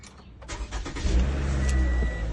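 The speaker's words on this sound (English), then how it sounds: "I'll start the car for a minute." A 2016 Toyota RAV4 engine cranks and catches, then settles into a steady low idle close by, with no talking.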